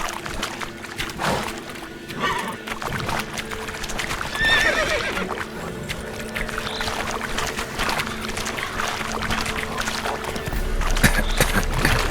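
Roach the horse in The Witcher 3 video game, steady clip-clopping hooves through most of the stretch with a clear neigh midway, close and fairly loud over a bed of ambient game sound.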